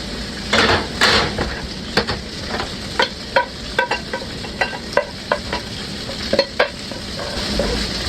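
Shrimp seasoned with salt and pepper sear loudly in a hot pan, with asparagus dropped in among them, a strong crackling sizzle punctuated by repeated clacks and scrapes of a utensil against the pan.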